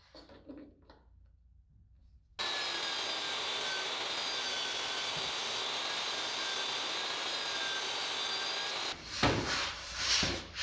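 Table saw cutting a guide strip from 1/2 inch plywood in a woodshop: a steady, loud whining blade roar holds for several seconds, then spins down into clattering handling noises.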